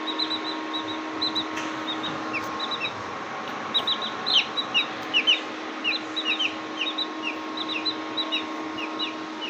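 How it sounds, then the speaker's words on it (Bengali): Chickens in a home with a cat, repeated short high clucks and chirps in irregular bursts over a steady background hum, fairly close and moderately loud, no talking. "বাসায় দুইটা আমার মেয়ে মুরগির বাচ্চা নিয়ে আসছে"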